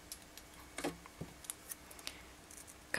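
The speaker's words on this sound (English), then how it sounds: "so I'm going to cut that off too." Scissors snip through a fine micro macrame bracelet thread: a few quiet, close cuts and crisp clicks in a hushed room.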